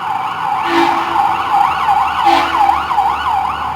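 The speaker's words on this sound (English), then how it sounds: "fire trucks" Fire truck sirens wail in repeating up-and-down sweeps during a riot in Quito, Ecuador, loud and continuous over steady street noise, with no talking.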